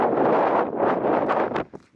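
Outdoor wind buffets a microphone in loud low rumbling gusts during work on a 2022 Subaru BRZ, roaring steadily before dropping off into brief quieter puffs.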